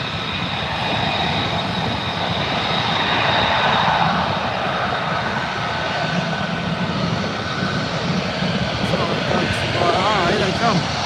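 Two F-35 jets at RAF Lakenheath roar continuously as a broad, loud rumble that swells slightly midway, with people talking over it.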